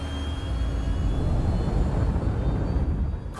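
A steady, dense roar from an Anvil Aerospace spaceship engine just after takeoff in Star Citizen, loud and continuous with a rumbling low end and an airy hiss, fading slightly at the end.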